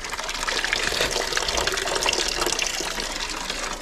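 Coolant gushing steadily out of a BMW E36 M3 Touring as its engine is pulled, a continuous loud splashing pour of liquid throughout, close by and without talk.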